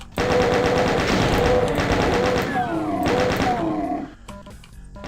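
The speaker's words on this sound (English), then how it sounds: "it just takes a few seconds of your chain gun" Rapid sustained automatic gunfire from a chain gun in the shooter game The Ultimate Doom, loud and continuous for about four seconds with dense rhythmic bursts, then cut off, followed by sliding monster growls and a short fading tail.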